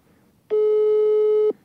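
A telephone ringback tone sounds on an outgoing call as a single steady electronic tone lasting about a second. It is loud and clear against near silence.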